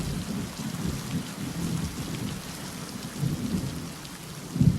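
Steady rain falls with low rolling thunder rumbling underneath, the rumble swelling and fading in soft waves and growing louder near the end, with no voices.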